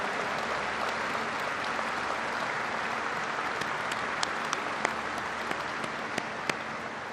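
A large audience at a Kennedy Space Center speech gives sustained applause to members of the House and Senate, a dense steady wash of clapping lasting several seconds with a few sharper claps near the front.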